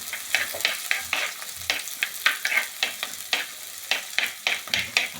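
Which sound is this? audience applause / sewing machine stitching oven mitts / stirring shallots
stirring shallots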